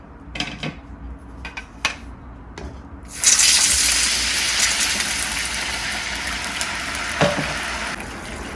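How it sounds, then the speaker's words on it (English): After a few clinks of cookware, cornstarch slurry pours into a hot pan of pan-fried kimchi pork buns and a loud, steady sizzle rises and keeps hissing to the end. "once you start seeing some color at the bottom, pour in your cornstarch liquid"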